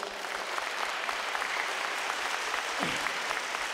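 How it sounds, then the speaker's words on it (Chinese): Audience applause at a school 50th anniversary preparatory meeting: steady, dense clapping from a seated crowd fills the room, sustained at an even level throughout. "跟他们来一个掌声？"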